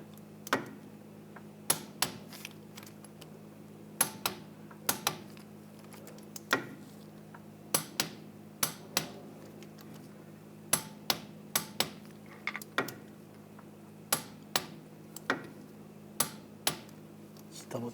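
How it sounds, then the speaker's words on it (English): Sharp clicks from a torque wrench tightening bolts on the rear wheel hub of a 2009-2017 Volkswagen Tiguan, arriving in irregular close bursts of single ticks over a steady low hum. "we're going to torque this to 30 foot-pounds"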